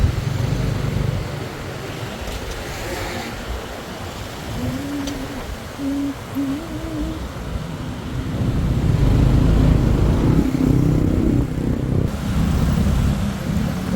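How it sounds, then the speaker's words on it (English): Busy Bangkok street traffic with motorcycles and cars, a dense continuous engine rumble and road noise close by, swelling louder toward the end, with a brief horn-like tone in the middle. "Now for the fun part, getting through this whole bunch of traffic."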